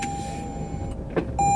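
A Toyota Mirai hydrogen fuel-cell car switching on, heard as a few soft electronic beeps and a brief whir inside the cabin, close and quiet.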